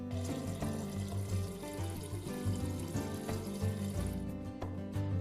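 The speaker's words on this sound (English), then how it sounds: "Press and release the water dispenser paddle as needed to dispense water to the 1 cup fill line." Water runs steadily from a refrigerator's dispenser into a measuring cup, a continuous moderate pour heard close up without pauses.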